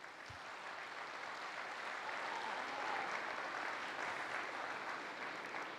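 Sustained applause from a gathering honoring a guest at a youth event, a dense even wash of clapping heard from a distance at low level.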